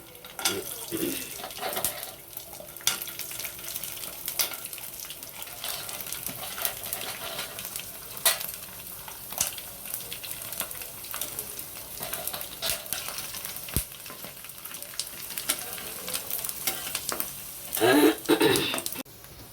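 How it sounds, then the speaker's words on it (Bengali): Sabudana papad fry in hot oil, giving a steady low sizzle with occasional stirring clatter and a brief splash of water near the end. "দেখো সবগুলো পাঁপড় কিন্তু আমি ভেজে ফেলেছি।"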